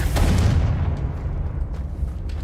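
A Confringo blasting spell cast in Hogwarts Legacy gives a heavy explosive boom up front, followed by a rumbling decay and scattered crackling bursts.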